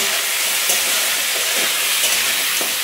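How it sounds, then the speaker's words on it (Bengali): Crab pieces fry in a pan with a steady, loud hiss that fills the whole stretch, with a few faint clicks and pops rising through it. "কাঁকড়াগুলো একটু ভেজে নিই"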